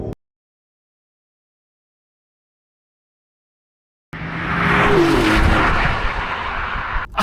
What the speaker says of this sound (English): Drive, sport mode, DSC off, hard on the brake, mash the accelerator to the floor.